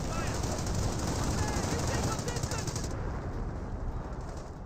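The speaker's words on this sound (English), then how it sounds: "Both screeners do get suppressed there by the MG." Automatic machine-gun fire in the WWII strategy game Company of Heroes, a dense, continuous rattle of rapid bursts filling the mix, with chirpy battlefield ambience behind it and fading slightly toward the end.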